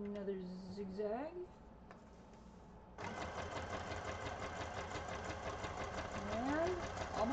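A sewing machine stitches a zigzag on vellum in a fast, steady mechanical whir that stops briefly, then resumes loudly and runs continuously to the end, with a voice speaking over the start.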